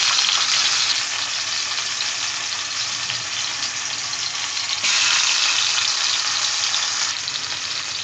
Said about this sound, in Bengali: তেলটা মোটামুটি গরম হয়ে গিয়েছে এ পর্যায়ে আমি মেখে রাখা মাছগুলো এর মধ্যে দিয়ে দিচ্ছি